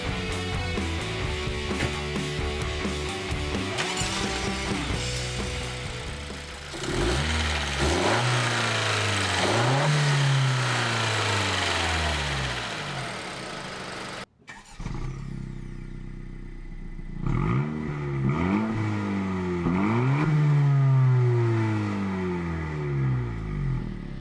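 Turbocharged 1.5-liter four-cylinder engine of a 2017 Honda Civic Si sedan pulls through repeated rising and falling revs while driving, loud and close, with a brief drop near the middle before climbing again.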